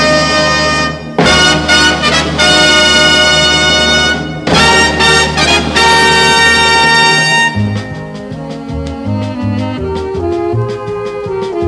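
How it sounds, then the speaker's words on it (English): State Farm Insurance jingle built on a three-note theme, played as a loud, bold orchestral fanfare with sustained brass chords that gives way to lighter plucked and staccato notes, with no voices. "a sound and a set of notes and a way of playing the notes in syllables that will forever mean"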